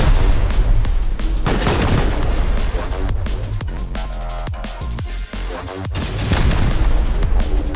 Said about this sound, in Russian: Стой, гаражку взрываем.